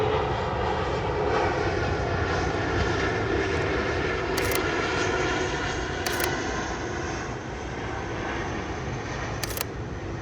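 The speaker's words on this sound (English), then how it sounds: "It's a plane going over." A propeller airplane engine drones steadily overhead throughout, a loud continuous roar, with a few faint camera shutter clicks and no talking.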